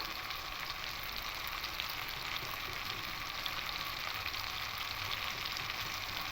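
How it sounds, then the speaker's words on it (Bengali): Chopped onion and tomato frying with salt in a pan for a carp curry with potato and taro, giving a steady, dense sizzle that holds evenly throughout with no talk. "লবণটা দিয়ে আরো ভালো করে একটুখানি ভেজে নেবো মানে কষিয়ে নেবো"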